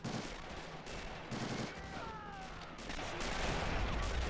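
K98 bolt-action rifles crack in a World War II shooter with a realism mod, volleys of gunfire popping near and far over a steady battlefield rumble, with no speech.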